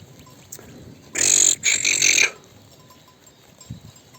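A sheep on a pasture bleats once loudly and close, a single wavering call of about a second, with quiet open-air background and faint small sounds before and after.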